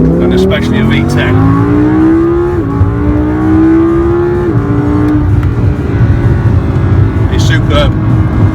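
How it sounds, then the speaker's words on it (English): Naturally aspirated V10 of an Audi R8 V10 Plus, a loud hollow metallic engine note that climbs steadily through the revs with brief dips at gear changes, sustained and close throughout. "That sort of hollow metallic noise that you get from a normally aspirated big car, and especially a V10."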